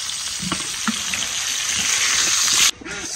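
Fish frying in a pan in a village home kitchen, a steady loud sizzle and hiss with a few soft stirring knocks, cut off abruptly near the end.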